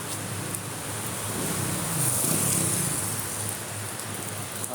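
Steady rain pattering down on surfaces, a continuous hiss with scattered drops, close by and fairly loud, swelling briefly in the middle.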